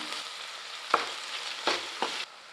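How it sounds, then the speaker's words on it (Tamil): Tomato sizzling and frying in a pan, with a few scraping stirs of a spatula breaking up the steady crackle. "ஒரு நாட்டு தக்காளி பொடியாக நறுக்கி வச்சுருக்கேன் இதையும் சேர்த்து நல்லா வதக்கி விட்டுக்கலாம்"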